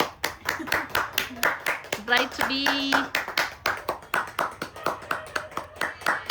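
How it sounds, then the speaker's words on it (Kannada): Group of people clapping hands at a bride-to-be bachelorette party, a quick steady run of sharp claps close by, with cheerful talking voices mixed in. "ಚಪ್ಪಾಳೆ."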